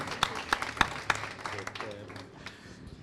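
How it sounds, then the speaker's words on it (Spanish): A few sharp, evenly spaced claps ring out in a small studio for an absent guest, then thin into a softer, fading patter. "Vamos a regalarle un aplauso bien fuerte para que lo sienta donde esté"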